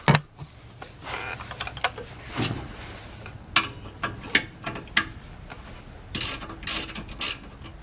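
A ratchet works bolts loose from the steering knuckle of a Mercedes-Benz W202 C280 front suspension, giving repeated rapid clicking runs close up in a quiet garage, with no talking.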